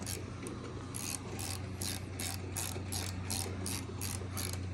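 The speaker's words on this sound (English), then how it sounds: "Tighten that bolt" A ratchet tightens a bolt on a Prinsu roof rack atop a 5th Gen Toyota 4Runner, giving a steady run of about a dozen even, crisp clicks over a low background hum.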